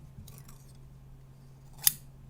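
Scissors are handled in a quiet room, giving one sharp metallic snip or clink near the end over a low steady hum.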